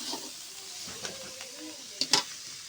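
Greens being fried into shak bhaja give a soft sizzle and hiss in the pan, with a few brief scraping clinks of stirring or serving near the end, fairly quiet overall.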